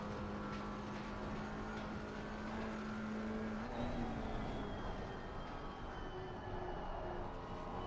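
A GT4 race car in Assetto Corsa Competizione laps Zandvoort, heard from the cockpit as a steady, droning engine note that holds and then shifts pitch slightly as it works through a corner, with no talk over it.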